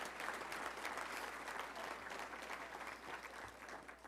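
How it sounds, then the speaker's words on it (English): Steady applause from a luncheon audience at a touchdown club gathering, welcoming honored students; a continuous, even wash of clapping heard at a distance and fairly faint, with no voices over it. "Please give them a round of applause."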